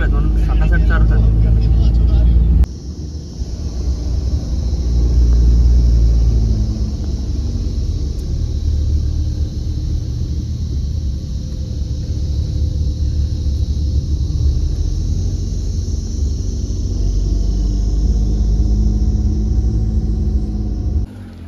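An Alto car drives along a road near Gangtok, its engine giving a steady, close, low rumble with broadband road noise throughout, and voices talking over it.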